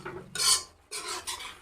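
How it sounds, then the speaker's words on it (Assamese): Pieces of local chicken are stir-fried in a pan, with a spatula scraping and stirring in three quick bursts of rasping, sizzling friction, close up and with no voices. "এতিয়া এইখিনি ধুনীয়াকৈ অলপ সময় আকৌ ভাজি ল'ব।"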